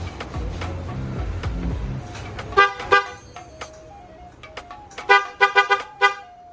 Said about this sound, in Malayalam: ഒരു വർഷം വാറൻറ്റി വരുന്ന ഹൊസാനി എന്ന് പറയുന്ന കമ്പനിയുടെ ഹോൺസ് ആണ് നമ്മൾ സെലക്ട് ചെയ്തിരിക്കുന്നത്.